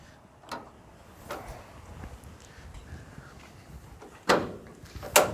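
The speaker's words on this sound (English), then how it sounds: "Open up all these doors for you." Doors on a Chevy Cutaway truck being opened, giving two loud, sharp clunks near the end after a stretch of quiet rustling and faint handling noise.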